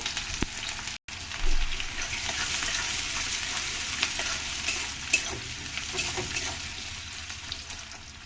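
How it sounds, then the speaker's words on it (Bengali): Onions frying in a pan until browned give a continuous close sizzle with occasional stirring scrapes, steady and fairly loud after a brief drop near the start. "পেঁয়াজগুলোকে লাল হওয়া অবধি আমি ভাজবো।"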